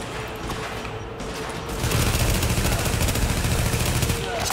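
Rapid gunfire from Tom Clancy's The Division on PS4 rattles in bursts, growing louder and denser midway, with a player talking faintly in the background.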